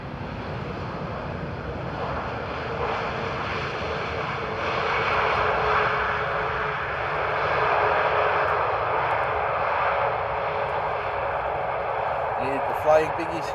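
A Pegasus airliner lands at Amsterdam airport, its jet engines a steady, loud roar that swells and holds for the whole stretch, with a brief knock near the end.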